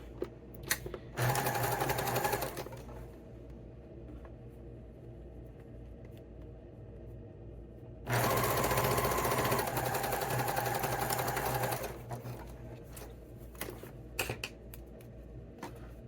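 A sewing machine stitching the band of a winter beanie, two loud steady runs of rapid whirring stitches, a short burst then a longer one, separated by quiet pauses with small clicks and handling sounds.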